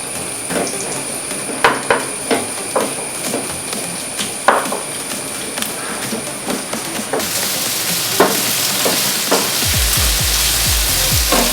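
Hot coconut oil in a pan gives scattered sharp crackles and pops, then bursts into a loud, continuous sizzle as food goes in, steady and close for the final seconds.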